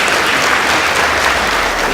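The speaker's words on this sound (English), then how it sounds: "Please give them a round of applause." Steady, dense applause from a crowd, clapping loudly and evenly throughout.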